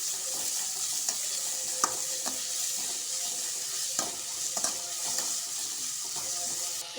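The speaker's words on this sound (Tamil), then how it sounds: "வெங்காயம் நல்லா வதங்கட்டும்." Onions sauté in a pan for poori masala, giving a steady, close sizzle broken by repeated scraping stirs, with no talking.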